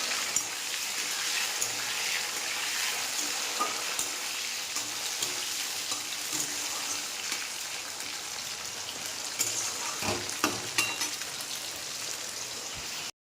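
Ripe tomatoes tipped into a hot frying pan while cooking khichuri at home, giving a dense, steady sizzle and crackle that runs on unbroken at moderate loudness with some stirring, no voices heard.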